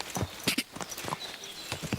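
Horse hooves clip-clop in an uneven walking rhythm on a hard surface in the medieval game Kingdom Come: Deliverance II, close and fairly quiet, with no talk over them.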